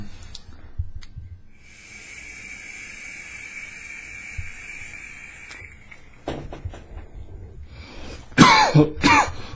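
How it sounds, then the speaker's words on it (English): A person coughs after a hit from a vape, with the Lemo 2 or HB Mini devices named. A soft, steady hiss of the device firing comes first, then two or three sharp, close, harsh coughs near the end. "So if I cough, it means it's good."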